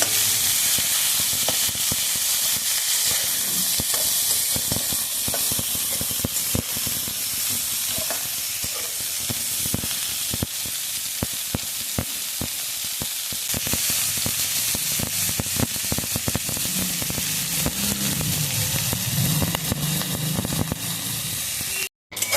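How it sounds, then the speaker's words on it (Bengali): Bitter gourd and potatoes fry in a pan with garlic, giving a steady, close sizzle and hiss that runs unbroken throughout, with occasional stirring scrapes and no talking. "উচ্ছে আলুতে পরিমাণ মতো লবণ দিয়ে উচ্ছে আলুটাকে একটু ভাজা ভাজা করে নেবো"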